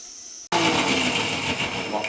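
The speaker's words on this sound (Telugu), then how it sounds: "దీన్ని మెత్తగా పేస్ట్లా పట్టేసుకుందాం" After a brief quiet moment, a mixer grinder starts abruptly and roars steadily as it grinds a masala paste of coriander, turmeric and a glass of water.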